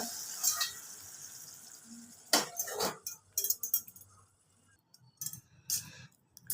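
Paneer curry clinking and scraping as it is spooned from the pot into a serving bowl, with sharp metal-on-metal chinks and stirring scrapes in short bursts between quiet gaps.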